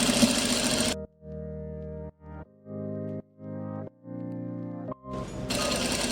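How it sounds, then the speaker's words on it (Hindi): A sewing machine stitches along the edge of a palazzo pocket in five short bursts with brief pauses between them, framed by louder broadband noise before and after. "अब मैं उसके किनारे पे सिलाई लगा रहा हूँ।"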